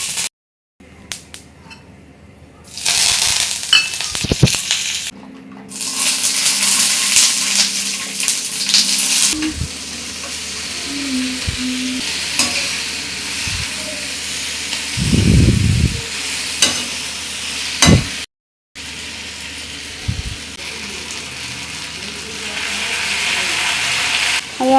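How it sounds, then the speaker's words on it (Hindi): Colourful idli frying in a pan of tadka tempering, a steady sizzle that breaks off and resumes in several bursts. Occasional clanks and scrapes of stirring come through, with no talking. "इसको फ्राई करने जा रही थी।"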